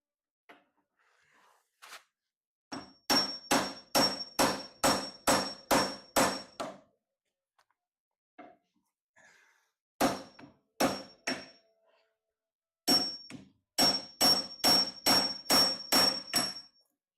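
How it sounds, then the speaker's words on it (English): A chisel struck repeatedly with a mallet while cutting a joint for a torque box, sharp ringing knocks in quick runs of four to eight blows separated by short pauses, close and loud. "I do love the sound of good chisel"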